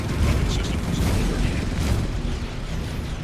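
Rumbling explosion of a mining installation being destroyed in the space game Star Citizen, a sustained loud boom with a low roar that fades slightly toward the end.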